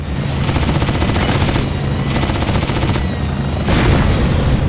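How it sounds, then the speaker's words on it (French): Gunfire in the Pursuit Force video game fires at the player as dense, loud, continuous bursts of rapid shots, pulsing in waves without a break. "il me tire dessus"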